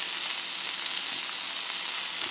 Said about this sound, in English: So now it's ready to go and I give it a flip.